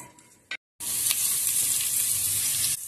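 Sliced garlic cloves dropped into hot olive oil burst into a loud, steady sizzle after a short quiet gap, holding close and even for about two seconds before cutting off.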